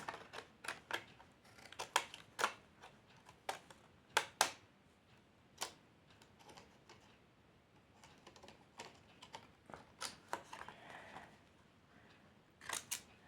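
Sharp, separate scissor snips cutting paper for scrapbooking, close and crisp, coming in irregular bursts with quiet pauses between them.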